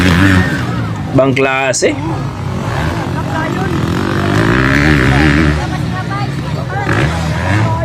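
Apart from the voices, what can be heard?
250cc motorcycle engine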